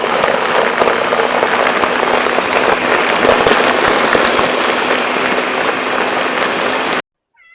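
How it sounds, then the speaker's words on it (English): A blender whirring through bone-dry coconut for rice and peas, a loud, dense, continuous grinding roar held steady for several seconds before cutting off abruptly. "So I am going to add the coconut now to my blender."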